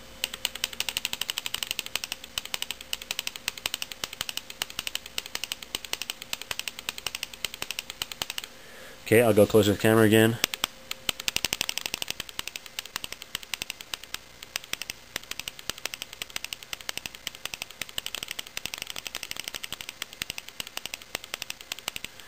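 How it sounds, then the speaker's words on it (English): Bob Long G6r paintball marker firing in PSP ramp burst mode, a sharp rattling cluster of rapid shots about a second long, loud and close amid steady background hiss, with a brief spoken remark elsewhere. "So this is how the burst mode works in the PSP ramp on the G6r."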